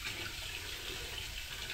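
Tap water running steadily, needed for developing radiographic plates, a continuous soft hiss and splash at low level with no speech over it.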